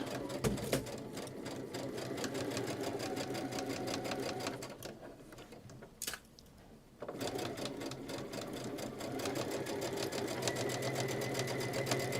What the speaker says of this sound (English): you can just sit there and keep firing them through the machine